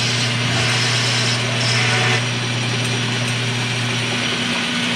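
An old South Bend lathe turns a shift rod bushing for a 1955 Chevy, producing a loud, continuous mechanical whir and gear rattle with a steady low hum that runs without a break.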